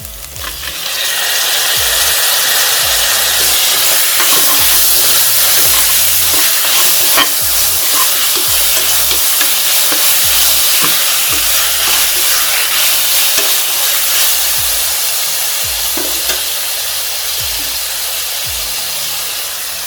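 Tomatoes hit hot oil in a frying vegetable biryani masala, bursting into loud continuous sizzling with steam hiss and scattered stirring scrapes, close and steady throughout.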